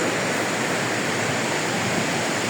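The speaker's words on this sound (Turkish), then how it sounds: "Karpuzlu Şelalesi. Harika bir yer." Karpuzlu waterfall flowing, a steady broadband roar of falling water that fills the whole clip without a break, close and loud, with no voices over it.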